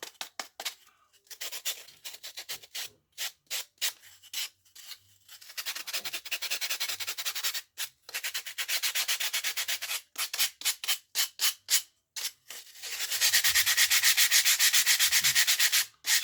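Repeated sanding strokes on a handmade wooden jaw harp case, smoothing the bottom; bursts of rough rubbing come in quick rhythmic passes with short gaps, ending in a longer steady stretch of sanding, close and fairly loud with no talking.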